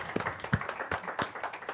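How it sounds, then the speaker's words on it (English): An audience at an EU urban mobility and sustainable transport event gives a brief round of applause, heard as scattered, uneven claps of moderate loudness and without a dense, sustained roar. "A round of applause."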